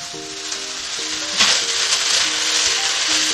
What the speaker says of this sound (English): You can hear the sizzling.